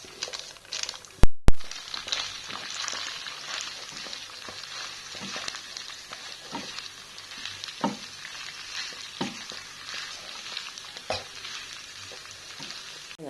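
Fried rice frying in a pan at home, a steady close sizzle with scraping and stirring strokes and a couple of sharp knocks early on.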